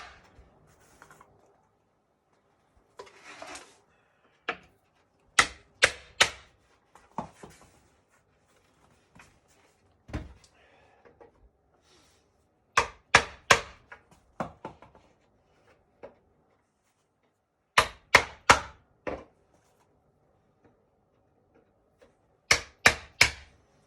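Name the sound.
chisel splitting wooden frame from Pachinko main board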